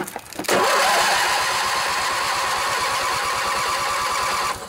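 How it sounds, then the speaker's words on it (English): A Briggs and Stratton opposed-twin engine swapped into a riding lawnmower turns over, a steady rapid rhythmic cranking churn held loud and close for several seconds after a brief start, with no talk. "When we turn the engine over,"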